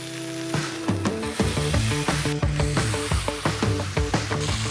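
A steak sizzles loudly in a hot pan as it is basted with melted butter, with a bright, spitting fry and rhythmic spluttering bursts as butter is spooned over.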